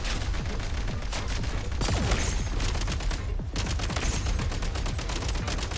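Dense, continuous gunfire from the Genshin Impact video game: loud rapid shots and bursts overlapping without a break for several seconds, with no voices.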